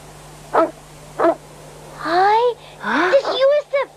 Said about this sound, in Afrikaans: Hoor hoe blaf hy.